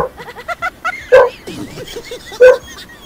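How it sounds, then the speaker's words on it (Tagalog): A dog barks twice loudly and close by, with softer yips and whimpering between the barks. "may tao po siguro kaya may tahol ng aso"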